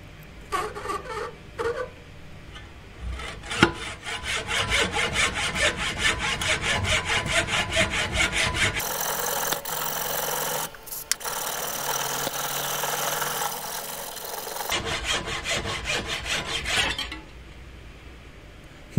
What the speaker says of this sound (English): Let's try another cut using the vise as a guide.